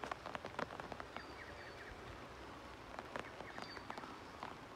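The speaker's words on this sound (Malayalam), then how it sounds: "ഇപ്പം മഴ കുറേശ്ശെ പെയ്യാൻ തുടങ്ങി കേട്ടോ." Light drizzle falls outdoors in the Vagamon hills, a faint, sparse patter of scattered drops tapping on surfaces with soft background ambience.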